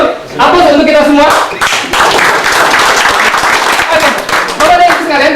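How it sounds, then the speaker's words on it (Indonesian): Workshop participants clap together in sustained applause through an environmental education training session, with a voice briefly talking over the clapping near the start and end. "Aplaus untuk kita semua."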